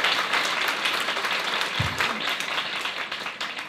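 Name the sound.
audience applause at graduation ceremony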